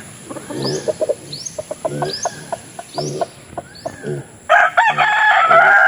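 A rooster, a Boston Roundhead and Kelso cross, crows loudly several times in a row, close by in a backyard, with clucking hens mixed in and a sharper, louder call near the end.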